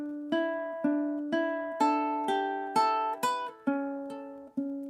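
A ukulele melody played without sustain, with a series of plucked notes in a steady rhythm, each dying quickly instead of ringing into the next, heard up close and alone.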